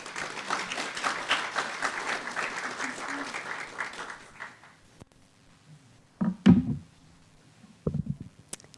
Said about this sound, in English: So give a round of applause for Mary Parr.